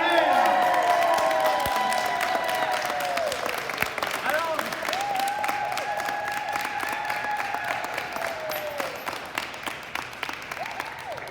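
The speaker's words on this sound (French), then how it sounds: "On l'applaudit, Diane!" A group at a retirement party claps and cheers for a long stretch, with whoops and raised voices mixed into the steady applause and people talking throughout.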